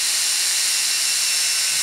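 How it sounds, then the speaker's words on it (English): A steady, high-pitched whine of an electric drill boring pilot holes in metal for a J-pole antenna runs without pause, a continuous hissing grind with no voices. "we're going to drill the first set of pilot holes"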